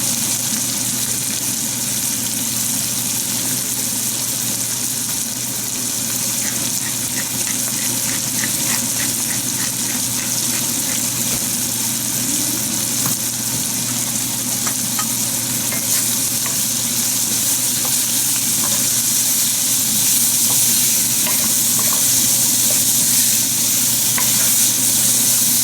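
Mirepoix and pancetta fry in olive oil in a pan, giving a steady loud sizzle with a stirring spoon scraping and clacking throughout, no voices.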